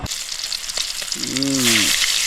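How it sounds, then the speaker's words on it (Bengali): Fish and chilies fry in a pan outdoors on an Andaman island, a loud continuous hiss and sizzle, joined midway by a short tonal voice or call that glides down in pitch. "ভাত রান্না মাছ ভাজা মরিচ ভাজা"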